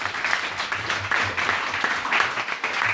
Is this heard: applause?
yes